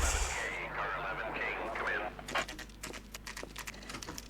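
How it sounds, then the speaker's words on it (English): Chicken clucking in the LA Noire video game, a few warbling calls in the first two seconds over low game hum, followed by a burst of clattering, footstep-like knocks. "Here's a chicken."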